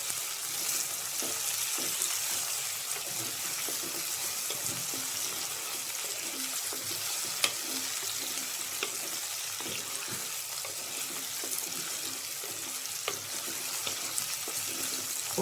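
Okra frying in hot oil, a steady close hiss of sizzling that stays even throughout, with a few faint clicks and no voices.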